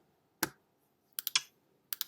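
Numbers are tapped into a calculator or keyboard for a math problem: one crisp key press, then two quick bursts of three rapid clicks each, close and clear in an otherwise quiet room.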